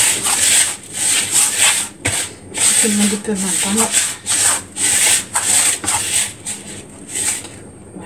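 Hands rub a mixture into semolina for makrout dough, making rhythmic, gritty rasping strokes in regular bursts about once per second. Someone speaks briefly in French partway through.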